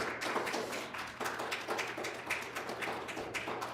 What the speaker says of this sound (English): I think our amazing panelists deserve a round of applause